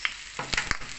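Onion frying in a pan for pork adobo, a steady close sizzle with a few sharp clicks and scraping stirs punctuating the crackle, no talking.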